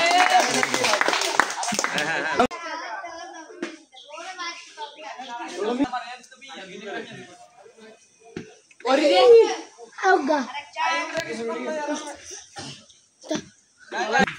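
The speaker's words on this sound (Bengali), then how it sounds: "সবাই হাততালি হোক" A small group clapping hands in a short burst, then people talking and laughing with a few scattered claps and slaps during a stamp throwing challenge game.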